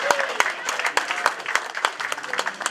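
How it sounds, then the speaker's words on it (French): Lively rhythmic clapping from guests at a surprise birthday party, sharp individual claps close by with crowd murmur and voices underneath. "Est-ce qu'on peut applaudir pour maman Cécile?"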